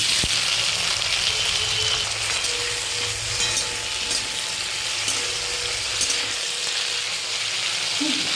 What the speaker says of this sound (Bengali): এবার দিয়ে দিচ্ছি টমেটো